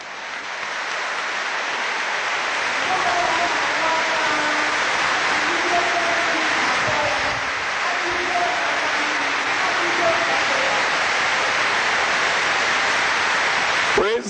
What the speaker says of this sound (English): Whenever we clap like that